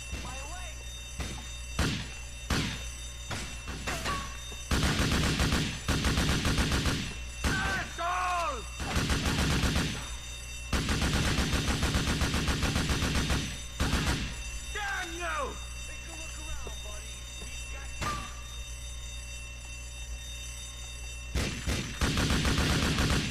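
Gunfire in Grand Theft Auto IV: bursts of loud, close shots and rapid automatic fire come in clusters with brief pauses between them, while someone talks and game sounds chirp underneath.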